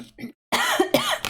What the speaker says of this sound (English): I thought my coughing was done today